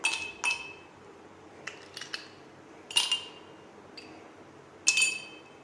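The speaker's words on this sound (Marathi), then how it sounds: "ह्याच्यामध्ये आपण दोन बर्फाचे स्लाइस घालणार आहोत" Ice slices clink into a glass of pineapple sherbet made from pineapple crush, giving several sharp glassy taps spread over a few seconds in a quiet kitchen, with no talk.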